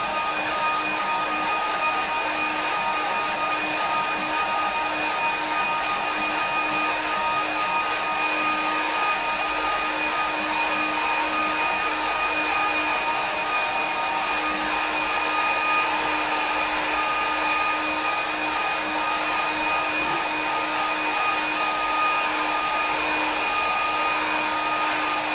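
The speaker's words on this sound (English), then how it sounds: "So back to the air dryer." Hair dryer blowing on a watercolour harbour painting to dry it, a steady continuous motor whine with an even airy hiss that holds unchanged throughout, close and alone.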